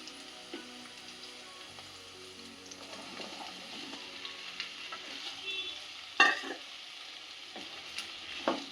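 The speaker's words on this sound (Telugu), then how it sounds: "పచ్చిమిర్చి కొద్దిగా ఫ్రై అయిన తర్వాత ఇప్పుడు బెండకాయ వేసుకోవాలండి." Okra (lady's finger) with green chillies frying in oil: a low steady sizzle with intermittent spatula scrapes and a sharper clatter midway as the pieces are stirred, no speech.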